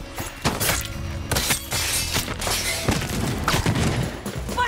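Turret gunfire in Deathloop, loud close shots and shattering impacts in quick irregular bursts over a busy game backdrop.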